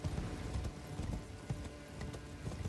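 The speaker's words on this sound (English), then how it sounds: "Get on my horse for a sec." Horse galloping in the video game Elden Ring: a steady, close clip-clop of hooves in a quick rolling rhythm that runs without a break, with no talk over it.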